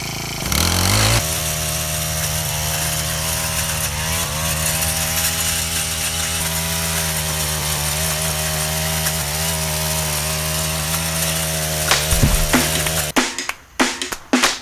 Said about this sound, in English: We're digging the hard clay and all that rock.